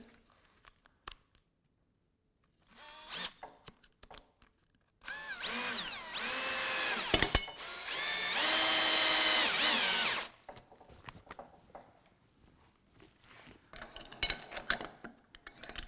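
A power drill drives the included screws to mount hardware on a torsion box workbench, with two whirring bursts of rising and falling pitch between clinks of handled metal parts, close by.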